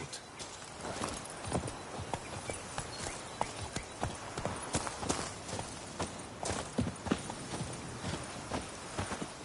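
Roach the horse trots along with steady, close clip-clopping hooves in The Witcher 3, a continuous rhythmic patter of hoofbeats with faint ambient noise beneath.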